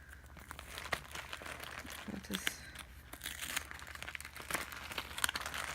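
Purple pillow packaging, plastic with a zipper top, crinkles and rustles close up in a steady stream of small crackles and tears, with a low hum underneath.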